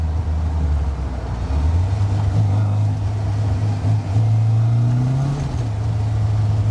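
MG Sebring sports car engine revving hard to around 5000 rpm as the wheels spin, a loud steady drone rising in pitch, continuous and close throughout.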